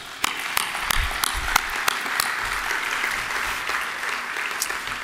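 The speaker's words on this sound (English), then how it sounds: "Give those guys a round of applause." Audience applauding sponsors at an agricultural conference's opening general session breakfast, a sustained wash of many hands clapping at moderate distance, with a few sharper near claps standing out early on.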